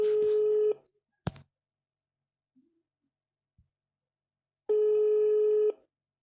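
An unanswered phone call, with two long, loud ringback tones separated by a brief click and near silence.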